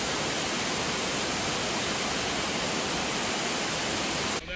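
A waterfall in Bohol, Philippines roars with a dense, steady broadband rush, loud and close throughout, cutting off abruptly at the very end with no voices.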